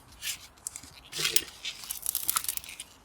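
Copper wire having its insulation stripped off by hand, heard as close, crinkly tearing and crunching scrapes in uneven bursts over about three seconds, with no talking.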